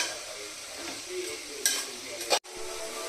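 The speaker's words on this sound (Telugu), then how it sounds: "బియ్యం బాగా వేసుకున్న తర్వాత కొద్దిసేపు అలా సిమ్లో ఫ్రై చేసేసుకోండి" Rice frying in a pan on low heat, a soft continuous sizzle with a couple of brief stirring scrapes and a short clatter near the end.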